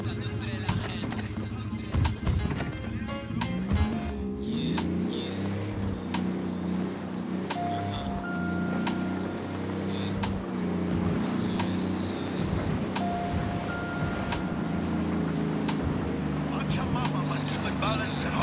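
A car driven in Ghost Recon Wildlands rumbles along with a continuous engine drone and road noise, steady and fairly close, while game voices and background sounds play over it.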